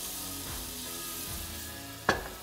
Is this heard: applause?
no